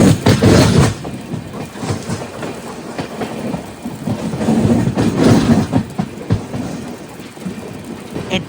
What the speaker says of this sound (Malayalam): എട്ട് 53 ആയപ്പോഴേക്കും നമ്മുടെ മദ്രാസ് മെയിൽ അങ്ങനെ തൃശ്ശൂർ സ്റ്റേഷനിലേക്ക് വേണ്ടി കയറിക്കൊണ്ടിരിക്കുകയാണ്